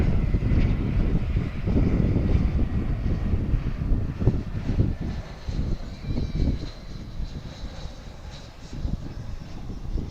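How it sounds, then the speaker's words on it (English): A United Airlines Airbus A319 jet arriving at Dallas/Fort Worth airport, heard as a steady, broad engine roar with wind rumble, loud and continuous throughout without speech. "we'll come back to this United Airbus A319 arriving."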